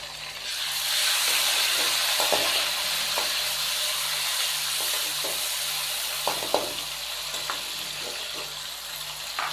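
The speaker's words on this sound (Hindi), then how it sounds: "टमाटर शामिल करने के बाद नादरीन हम इसको नॉर्मल आंच पे 2 से 3 मिनट भून लेंगे" Chopped tomatoes fry in a pan with ginger-garlic paste for aloo methi, giving a steady close-up sizzle and hiss with occasional soft clicks of stirring and no voices.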